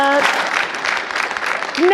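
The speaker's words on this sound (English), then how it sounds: "Give him another big round of applause." An audience at the Humans to Mars Summit 2019 conference claps in a dense burst of applause, with a voice briefly heard at the start and end.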